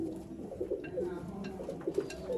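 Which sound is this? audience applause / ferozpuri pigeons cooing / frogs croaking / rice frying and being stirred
ferozpuri pigeons cooing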